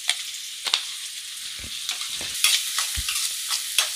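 Egg fried rice ingredients hiss and sizzle in a pan as a spoon scrapes and stirs them, giving repeated close, sharp stirring knocks over a continuous crackle.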